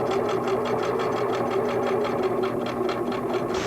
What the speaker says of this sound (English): Begin to sew so that the needle is going halfway onto the applique and halfway out to the fabric.